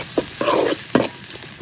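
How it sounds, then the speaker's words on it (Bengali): Chopped onion and green chili frying in soybean oil in a wok, heard as a few short stirring scrapes and bursts of sizzle over a steady close hiss, with no talking. "কুসাইন্না পেঁয়াজ আর মরিচ হালকা ভাজা হয়েছে"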